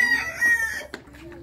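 Chickens and a rooster clucking close by in a brief burst of squawky calls, with a little background noise.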